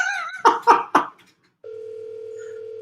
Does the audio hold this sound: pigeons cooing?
no